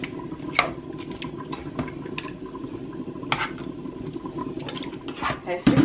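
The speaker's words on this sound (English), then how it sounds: "Now I'm just gonna stir them round." Prawns being stirred around a cooking pan, with repeated clinks and scrapes of a utensil against the pan over a low background hum, and a brief voice near the end.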